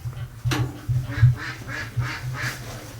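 A Muscovy duck gives a run of low, breathy hisses and soft huffs near a nest and brooder, close and repeated in uneven bursts.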